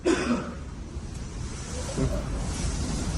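A man gives a couple of rough coughs and throat-clearing bursts, one at the start and another around the two-second mark, against a hissing background.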